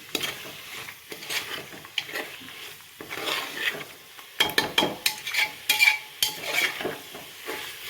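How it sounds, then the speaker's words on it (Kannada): Vegetables frying in masala for a healthy pulao, sizzling steadily while a spoon scrapes and taps the pan in irregular bursts, close and moderately loud with no talking. "ಸ್ವಲ್ಪ ಅದರಲ್ಲಿ ಮಸಾಲದಲ್ಲಿ ಫ್ರೈ ಆಗಬೇಕು ತರಕಾರಿ"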